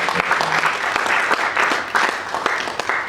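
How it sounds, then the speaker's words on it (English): An audience in Ghana's Parliament gives a round of applause, dense steady clapping lasting a few seconds at an even, fairly loud level. "Ladies and gentlemen, I believe they also deserve a round of applause"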